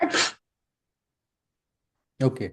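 A single close sneeze bursts out at the start, followed by silence and then a brief spoken word.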